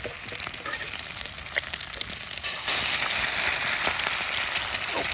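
Fish sizzles and fries in a pan on a camp stove at a Florida campsite, a steady close crackling hiss that grows louder partway through and carries on without talk.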